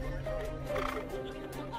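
Racehorses neighing and whinnying near the starting gate before a race, a loud whinny heard close over a background murmur of other sounds.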